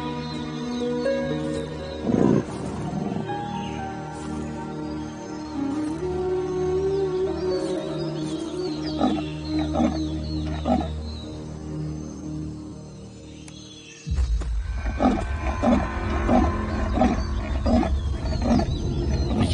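Wild panther in the jungle calling, a series of harsh rasping roars and grunts at moderate distance over a steady night ambience, with a louder burst near the end.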